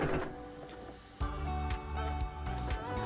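Sewing machine stitching the lower gathered edge of a dress sleeve. A quick mechanical whirr of needle strokes is heard close up after a brief pause, with no talking.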